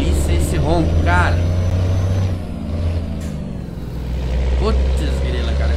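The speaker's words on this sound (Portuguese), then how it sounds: "Olha que delícia esse ronco" A BOB 15180 4x2 truck with a straight-pipe exhaust drones with a deep, loud, steady low rumble in Euro Truck Simulator 2, while someone talks over it throughout.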